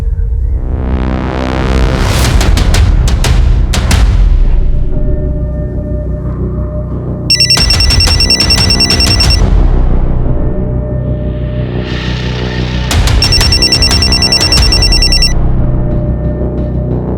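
Telephone ringing in a crime drama, with loud, sustained electronic ring bursts, two long buzzing trill passes with pauses between them, and no voices over it.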